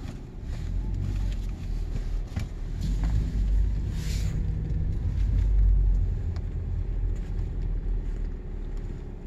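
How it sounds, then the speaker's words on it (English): Heavy trucks rumble past on a residential street in a new-home neighborhood. Their low engine drone swells and fades over steady outdoor noise, with no speech. "And I got a whole bunch of trucks coming through"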